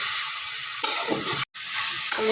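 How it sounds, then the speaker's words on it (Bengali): Water spinach greens sizzle steadily in hot oil in a pan, with scraping stirs marking the hiss and one brief break in the sound near the middle. "এখনও কিছুক্ষণ জাল করে ভালোভাবে ভেজে নিতে হবে।"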